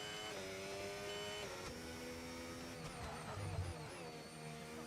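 An F1 race car engine in the F1 25 video game howls steadily, its pitch climbing and dropping as the car accelerates out of a pit stop. The engine is loud and continuous throughout.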